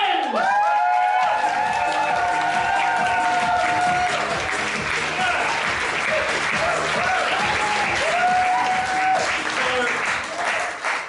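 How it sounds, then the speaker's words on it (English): A comedy club crowd applauds loudly and continuously, with whoops and cheers near the start and heavy rhythmic foot stamping running underneath throughout. "Stamp your feet, clap your hands"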